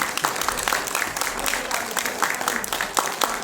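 Audience applause at a municipal arts gathering, a dense run of many hands clapping steadily, moderately loud with a faint low hum beneath.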